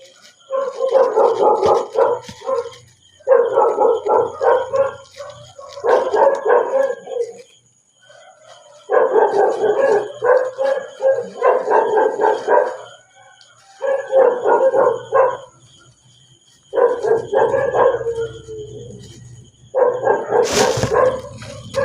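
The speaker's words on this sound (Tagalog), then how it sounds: "Ang ingay naman ng aso." Dog barking loudly in repeated bursts of rapid barks separated by short pauses, with some howling yips mixed in, close and prominent throughout.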